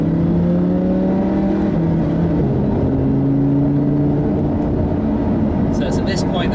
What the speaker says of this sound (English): Nice early on the downshift, detects what you're up to with that new gearbox.